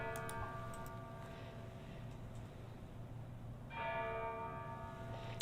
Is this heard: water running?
no